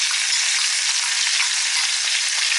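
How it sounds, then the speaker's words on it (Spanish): Onion dropped into a hot frying pan for a chicken dish, giving a bright, steady, loud sizzle that holds evenly throughout, close up, with no voices. "Se añade también la cebolla"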